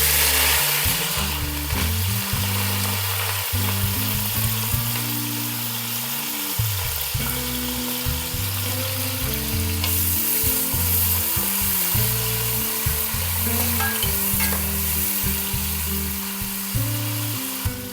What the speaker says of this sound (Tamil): அடுத்து கட் பண்ணி வச்சிருக்கிற வெங்காயத்தை சேர்த்துக்கலாங்க.